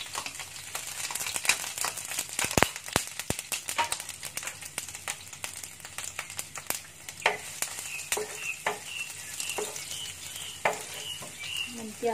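Minced garlic fries in about three spoonfuls of cooking oil in a pan. There is a constant crackling sizzle, and sharp scrapes and taps from stirring run throughout, with no talking.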